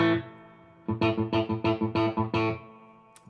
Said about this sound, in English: That's the sound of the chicken picking.